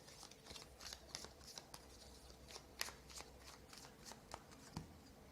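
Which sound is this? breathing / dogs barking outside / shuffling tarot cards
shuffling tarot cards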